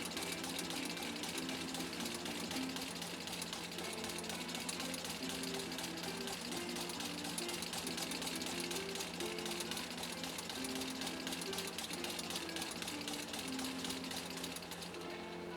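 A 1953 Singer 15-91 sewing machine runs at a steady pace, a fast mechanical chatter of needle and motor buzzing continuously and close by, alone with no talking.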